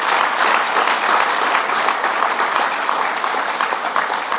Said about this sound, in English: A round of applause once again, please, for Anthony